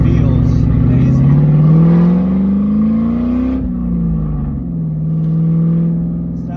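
A 2001 Mustang GT engine revs up and settles back, its loud harmonic drone rising and falling across gear shifts, with crackle on each shift and a voice talking over it.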